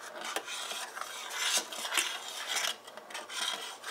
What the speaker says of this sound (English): Now you're gonna add your essence. Give that a stir.